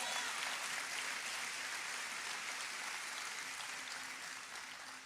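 A church congregation applauds Jesus during a sermon, the dense clapping soft and distant, sustained evenly and slowly fading toward the end.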